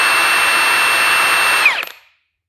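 A Milwaukee 2767 cordless impact wrench runs at a steady high-pitched whine for about two seconds, then spins down and stops, loud and close with no talking.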